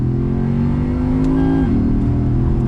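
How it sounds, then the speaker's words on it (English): A 2010 Lexus IS-F V8 accelerating, its induction noise a steady, loud, close engine drone with a layered harmonic tone that holds then briefly dips and shifts near the end, no voices. "The induction noise is really what sets this engine apart from a lot of engines."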